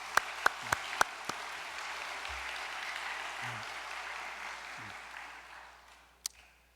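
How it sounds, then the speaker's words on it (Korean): Steady applause from a seated audience at a church gathering, honoring two grandchildren, sustained for several seconds at moderate distance with a few sharp knocks early on and a faint voice near the end. "손주님을 위해서 박수 한번 보내겠습니다."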